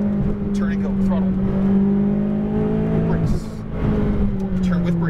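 A McLaren 570S accelerates hard on a race track, its engine note rising in steady harmonic sweeps as it pulls through gears, with a brief dip before climbing again, while an instructor talks over the loud, close cabin sound.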